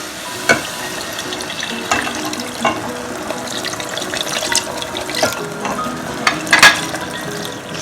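Hot water goes into a sizzling egg theeyal curry in a pan, producing a close, bubbling hiss with scattered spatters and clinks over several seconds. No one talks.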